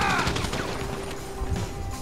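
Gunfire in the video game GTA V during a mission, with a quick cluster of sharp shots at the start and then a steady wash of game noise and scattered impacts.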